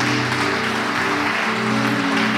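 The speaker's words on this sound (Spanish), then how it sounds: "Den un aplauso." A church congregation applauds during a worship service, a dense, steady wash of clapping lasting a couple of seconds over a low sustained musical hum.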